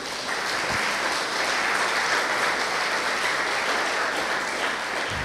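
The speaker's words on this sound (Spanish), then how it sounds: "Dale un aplauso al Señor." A church congregation applauds during a Sunday service, a dense, steady wash of many hands clapping that holds at full strength for about five seconds with no talk over it.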